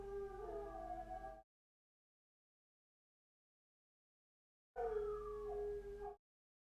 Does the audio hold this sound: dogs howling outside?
yes